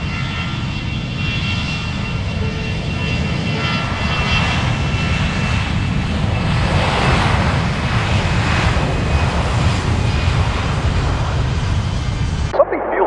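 Airplane engines in the physics building game Besiege drone steadily and loudly for the whole stretch, a dense roaring hum that swells slightly midway before cutting off abruptly at the end.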